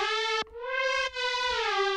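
A bright, buzzy Nexus 2 synth lead plays sustained notes with rich harmonics, briefly breaking twice with a short pitch dip, loud and alone with a roomy tail.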